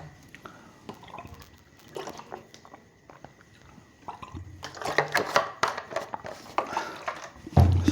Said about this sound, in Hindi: थोड़ा सा मैं पानी पी लेता हूँ